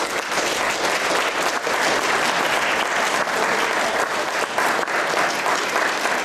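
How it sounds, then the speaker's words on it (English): An audience applauds at a stage performance of The Little Mermaid, with dense, steady clapping that stays loud and close for the whole stretch. "Let's give them a warm round of applause."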